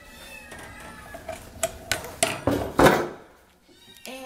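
An elderly former stray cat at an animal shelter meows repeatedly, a run of rising, insistent calls that grow louder toward the middle, then a pause and one more meow at the end.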